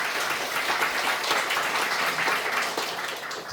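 A church congregation gives warm, sustained applause for first-time visitors, a dense steady clapping that fades slightly at the end.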